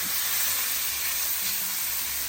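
Ground beef browning in a pan on medium-high heat, a dense, continuous sizzle with steady crackling hiss and a faint stir, close and even throughout, no speech.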